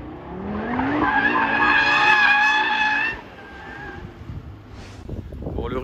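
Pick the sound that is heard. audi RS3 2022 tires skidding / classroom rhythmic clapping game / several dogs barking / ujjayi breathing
audi RS3 2022 tires skidding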